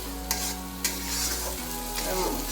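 Garam masala heavy on cardamom and light on cloves frying in a pan, giving a steady close sizzle with a few sharp stirring scrapes near the start, no voices.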